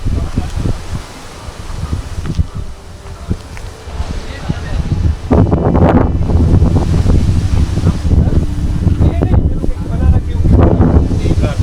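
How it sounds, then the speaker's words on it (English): Strong wind buffets the microphone atop the Makalidurga hill fort near Bangalore, a steady roaring rush with louder gusts surging midway through and no speech. "It's quite windy."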